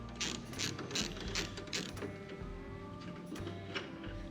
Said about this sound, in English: Next, we're going to want to take the bolt out on the side hinge on the tailgate.